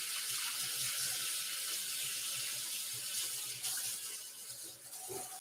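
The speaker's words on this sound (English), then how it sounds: "wash my hands" A kitchen faucet runs steadily into an apartment sink while someone washes their hands, a continuous close splashing hiss with small shifts in the flow and no talking.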